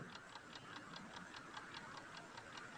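Steady clock ticking, evenly spaced ticks about four per second, quiet and close with a faint hiss behind and no voices.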